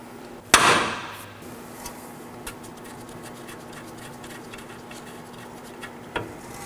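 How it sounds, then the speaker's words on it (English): A hammer strikes a steel steering knuckle on a Nissan Sentra with a single sharp metallic ring that decays, followed by a few lighter taps and a second faint hit near the end, in a quiet workshop. "we'll be hitting the knuckle with a hammer"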